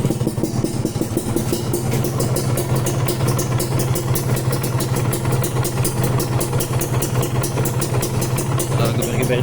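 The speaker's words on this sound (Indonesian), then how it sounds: "Kita dengerin suaranya dari sebelah kanan ya, dari sebelah kiri." Kawasaki Ninja RR motorcycle with a JP Racing full carbon exhaust after a year and four months of daily use, idling steadily, a loud, close, even engine burble that holds constant throughout with no talking.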